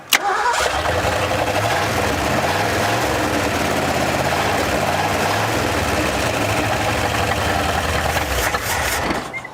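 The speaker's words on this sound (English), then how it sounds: "Crazy it runs as well as it does without even pulling the carburetor off." A 1974 Ford Bronco engine, left abandoned for 35 years, cranks and catches with a sharp start, then runs at a steady, rough medium-pitched idle up close, with no talking over it.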